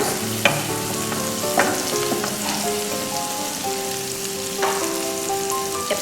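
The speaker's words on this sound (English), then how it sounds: "Saute until the raw smell goes." Onion masala sautéed in a pan for egg and peas curry makes a continuous close sizzle, with a few sharp scraping stirs of a utensil against the pan; no one talks.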